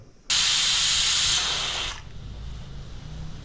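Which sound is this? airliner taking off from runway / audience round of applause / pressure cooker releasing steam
pressure cooker releasing steam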